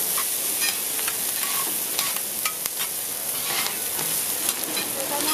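Steady oily sizzling of a mussel pancake frying on a giant hot pan at a market stall, with scraping and stirring clatter now and then, no voices.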